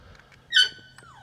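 A dog gives a short, high, squeaky whimper near the microphone during an outdoor long-range rifle scope test. It is followed a moment later by a fainter, falling whine over quiet background noise.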